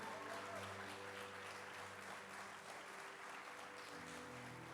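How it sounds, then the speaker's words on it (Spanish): A church congregation applauds in a steady, even wash of clapping that sounds faint and distant, with a low tonal hum beneath it. "Denle un fuerte aplauso al Señor"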